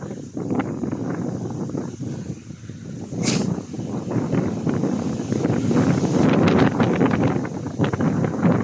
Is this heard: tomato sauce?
no